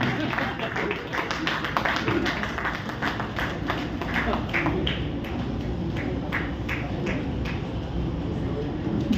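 Sustained clapping from a Rotary club installation day audience in Delhi, dense and continuous throughout, with some voices mixed in beneath it.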